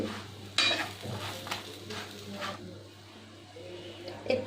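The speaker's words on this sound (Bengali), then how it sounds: "মশলার সাথে পটলগুলো ভালোভাবে মিশিয়ে নিচ্ছি।" Pointed gourds are stirred into spice paste in a pan, giving a few scraping, shuffling strokes over a soft sizzle and a steady low hum.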